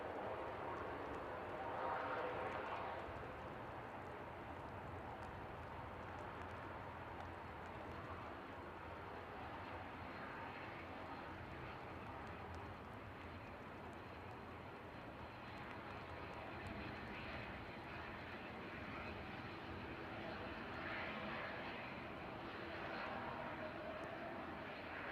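Aer Lingus Regional aircraft rolling out on the ground at Manchester Airport, a steady broad engine rumble that holds fairly constant throughout, distant and moderate in level, with faint talk now and then in the background.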